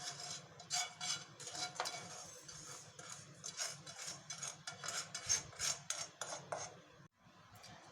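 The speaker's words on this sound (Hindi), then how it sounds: "अब सूजी को हम एक प्लेट में निकाल देंगे।" Roasted semolina is scraped out of a kadai onto a plate with a spoon, making repeated close, gritty scrapes and light metallic knocks in an uneven rhythm that continue for several seconds.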